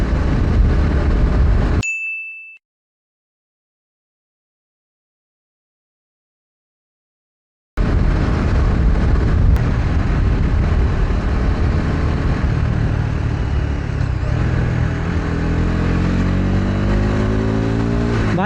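Bajaj Pulsar motorcycle with a replaced engine riding along a single-lane village road, a steady close engine drone and wind rush after a brief silent gap near the start.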